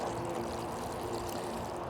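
Water pours steadily into a porous garden container, a soft continuous splashing and trickling wash that holds level for two seconds with no voices.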